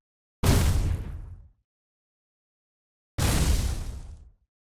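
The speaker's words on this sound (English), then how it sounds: "here's some examples of some different fire spells as well" Two fire spells cast in a wizard video game made in Unreal Engine 5, each a sharp explosive burst that decays into a fading whooshing roar over about a second, separated by silence.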